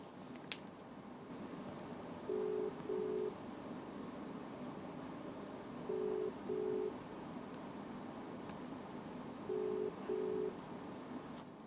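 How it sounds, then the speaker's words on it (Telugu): Phone ringback tone on a call to a mobile number, three pairs of rings evenly spaced over steady background hiss, with no speech. "కాల్ రింగ్ అవుతుంది"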